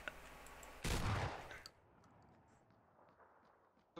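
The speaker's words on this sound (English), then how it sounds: "Oh, I got shot." A single loud burst of gunfire in the video game PUBG hits sharply and then fades into quiet in-game ambience, with a faint click near the end.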